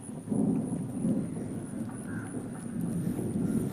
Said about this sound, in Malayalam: നല്ല ഇടിവെട്ടും മഴ വന്നുണ്ട് ഗൈസ്.